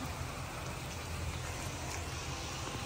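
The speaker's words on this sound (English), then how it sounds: "Got nowhere to get out of the rain." Steady rain falling on a campsite as a continuous dense hiss, with no voices and an even level throughout.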